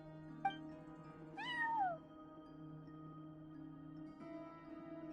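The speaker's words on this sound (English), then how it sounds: "cat watching over the front desk. Excuse... meow?" A cat meows once in Genshin Impact, a clear rising-then-falling call over a steady hum of game background music, with a brief chime just before it.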